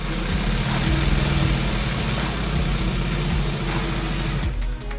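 A big-bobbin industrial sewing machine stitches car upholstery for a 1955 Chevy two-door post, a steady, fast mechanical whir and rattle that runs continuously and then cuts off just before the end.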